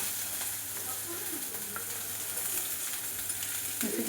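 Red chili crackling and sizzling in a spoonful of hot oil in a thin steel pan, a steady close frying hiss with scattered pops throughout.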